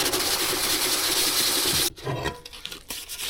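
A BMW boxer motorcycle cylinder head is scrubbed and abraded to prep it for paint, a loud continuous rasping grind close up that cuts off abruptly, followed by scattered softer scraping strokes.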